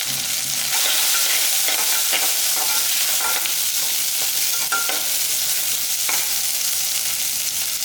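Coriander stems and chopped coconut sauté in a hot pan for goat head curry, giving a steady, close sizzle with scraping stir strokes throughout and no talking.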